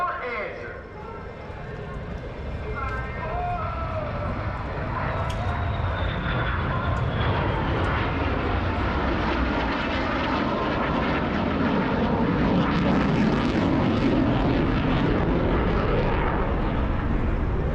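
Military jet roaring past at the Farnborough Airshow public day, a broad, loud engine rush that builds and holds for many seconds, mixed with crowd chatter and talk close by.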